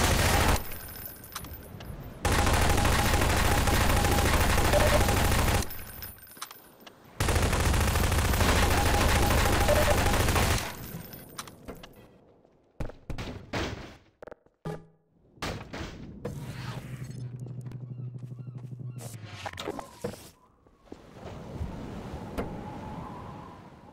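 Gunfire in the Half-Life 2 video game: two long bursts of loud, sustained automatic fire, then scattered single shots, thuds and a droning engine hum.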